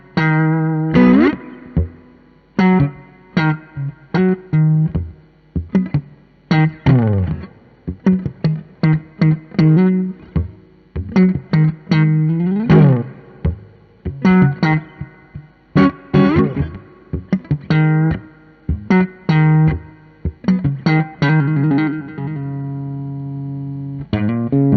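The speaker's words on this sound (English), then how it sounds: "it's a treble booster. So I can get a similar feeling to the fuzz, but without so much of that big fuzziness" Electric guitar on a Strat through a treble booster pedal in a three-pedal live rig, a bright, mildly driven tone with a run of picked notes and chords in irregular phrases, loud and close, with no voices.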